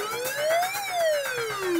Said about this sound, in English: As the train is getting closer, there is a pre-alarm, which you can quit by tapping on the phone.